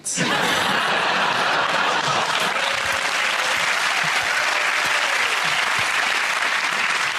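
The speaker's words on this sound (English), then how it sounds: "One of the largest spontaneous and heartfelt applause we've had." A comedy panel show's studio audience breaks into loud, sustained applause, a big spontaneous burst mixed with scattered laughter and chuckles that holds steady throughout.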